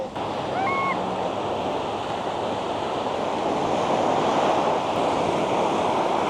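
Ocean surf washing steadily onto Dog Beach in Key West, a constant broad roar of waves with wind buffeting the microphone and a faint bird call near the start.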